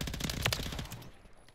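Rapid burst of automatic fire from a RAM-9 submachine gun in a first-person shooter, dense repeated shots close and loud for about a second, then cutting off into a quieter tail.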